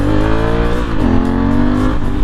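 Honda Africa Twin adventure motorcycle accelerating hard into a wheelie, its engine revving up loud and close with a rising, then briefly dipping and climbing pitch over two seconds, alone without talk.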